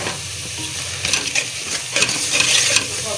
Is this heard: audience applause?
no